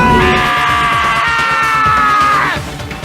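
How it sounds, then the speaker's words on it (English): A loud, sustained scream from a character in the video game Danganronpa: Trigger Happy Havoc, holding a high wavering pitch for over two seconds before breaking off, with game sounds beneath. "I heard screaming."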